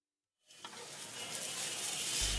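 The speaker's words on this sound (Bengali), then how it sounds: "চাল ভাজতে ভাজতে আরও 3 টেবিল চামচ ঘি দিয়ে দিলাম।" Rice fries in ghee for chicken tehari and starts sizzling after a short silence, a bright, steady hiss that grows louder as it is stirred.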